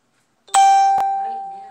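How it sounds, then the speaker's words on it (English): A phone notification chime rings out alone: a bright, sustained electronic tone with a sharp strike and a second tap soon after, the ringing held and slowly fading. "I love not turning off my notifications."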